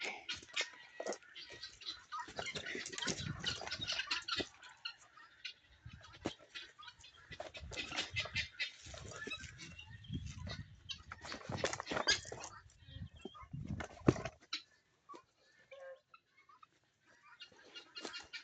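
Guinea fowl calling with harsh, repeated cries in irregular bursts, fairly close and loud, over outdoor background noise.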